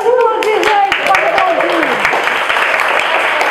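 An audience claps steadily in a broad wash of applause on a Brazilian TV talk show, loud and close, while voices talk and call out over it at the start before the clapping carries on alone.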